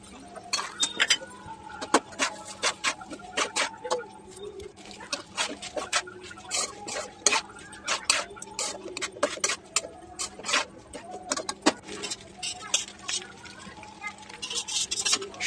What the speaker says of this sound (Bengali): গ্রেভি গ্রেভি হয়ে আসলে আমরা পাস্তাগুলো দিয়ে দিব এবং বারবার নাড়তে থাকবো